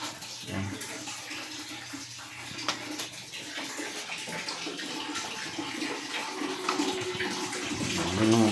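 Water gushes and splashes steadily from a Samsung automatic top-load washing machine whose drain is faulty, running continuously at close range with a faint voice in the background and the flow swelling louder near the end.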